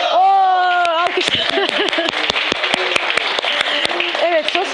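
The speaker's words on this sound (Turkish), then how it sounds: "Alkış!" Applause for guests arriving at a Turkish TV studio show, steady clapping from a small audience running throughout, with people cheering and a voice talking over it at the start and end.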